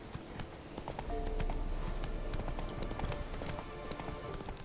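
Roach, a horse in the video game The Witcher 3, gallops with a quick steady clip-clop of hooves, fairly faint under a soft ambient game background.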